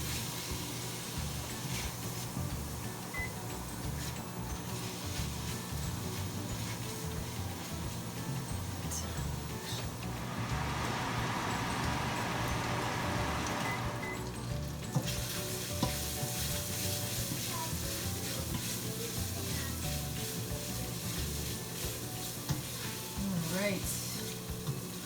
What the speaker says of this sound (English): add a little bit of water so we can start to deglaze here, as the bacon has started caramelizing nicely